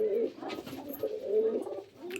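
Pigeons kept in a cage coo softly nearby, a few low throaty rolling calls repeating with short pauses, fairly quiet against a still background.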